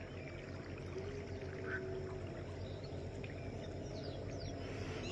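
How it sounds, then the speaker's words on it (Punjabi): The Sutlej river flows fast in a steady, continuous rush of water that stays even in loudness throughout, with no voices. "ਪਾਣੀ ਚੱਲ ਰਿਹਾ ਪਾਣੀ ਤੁਸੀਂ ਵਹਾਓ ਪਾਣੀ ਦੇਖ ਸਕਦੇ ਹੋ ਪਾਣੀ ਹੁਣ ਵੀ ਤੇਜ਼ ਹੈ"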